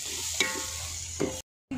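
Coriander and mint being stirred in a pan for Ambur mutton biryani, a soft steady sizzle with a couple of scraping stirs before a brief cut to silence.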